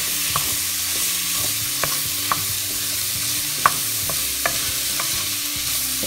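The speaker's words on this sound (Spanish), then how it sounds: "Aquí le vamos a poner nuestra cebolla. Vamos a batir un poquito." Onion sizzling loudly in a hot pan while being stirred, a constant bright frying hiss broken by scraping taps of the utensil, close up with no voices.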